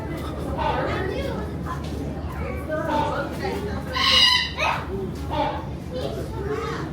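Birds call in a forest, with a bright, ringing cry standing out near the middle among scattered chirps, while people talk throughout.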